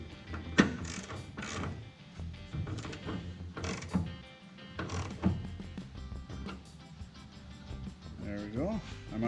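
Nut being tightened onto a tailgate damper mount on a 1999–2007 Chevy/GMC Silverado: repeated ratcheting clicks and mechanical creaks in bursts, close up, with someone talking over the work.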